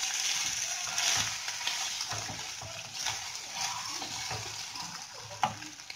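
Coriander muthiya dumplings shallow fried in oil give off a faint, continuous sizzle with soft crackles and stirring sounds, quiet and close, with no talk over it.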